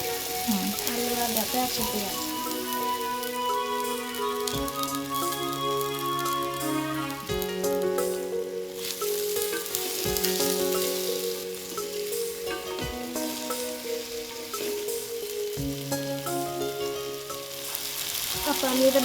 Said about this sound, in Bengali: আলু আর ডাটা চুলার কড়াইয়ে ভাজতে দিয়ে